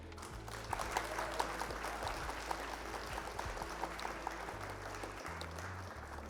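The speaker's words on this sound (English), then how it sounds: "Run a round of applause for our opponent." Faint applause follows the end of a Flesh and Blood card game, a thin, even patter of clapping heard at low level over a steady background hum.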